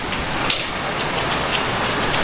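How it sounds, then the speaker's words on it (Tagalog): Rain falls steadily on a construction site at the foundation stage, a dense even hiss with occasional sharper drop impacts. "Umuulan."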